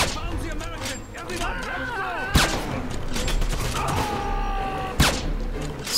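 Two sharp, loud carbine shots ring out a few seconds apart in the Wolfenstein video game, over a busy bed of game effects and voices.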